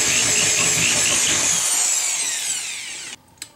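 A power drill bores a countersink dent into an iron angle, giving a loud, close, steady whine that slowly drops in pitch before cutting off, followed by a brief knock.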